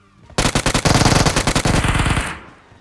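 UMP9 submachine gun fired in PUBG Mobile, a loud close burst of about twenty rapid, evenly spaced shots lasting roughly two seconds before trailing off.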